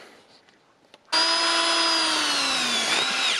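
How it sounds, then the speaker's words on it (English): A power drill fitted with an SDS bit in a standard 1/2-inch chuck spins up abruptly after a few quiet clicks, then runs with a steady high whine that sags slightly in pitch under load, close and loud. "I'm just going to use this one in my regular 1/2-inch chuck on my drill."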